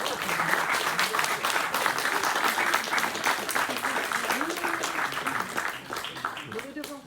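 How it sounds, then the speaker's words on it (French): A hall audience at a campus stage presentation of student projects applauds, a dense, steady wash of clapping that keeps up at full strength for the whole stretch and eases slightly at the very end. "Vous pouvez même applaudir, hein, si vous voulez."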